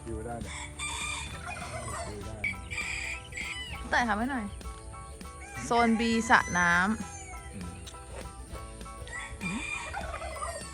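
Roosters crow repeatedly amid clucking chickens at a café farm in Phayao, Thailand, fairly close, while people talk intermittently in the background.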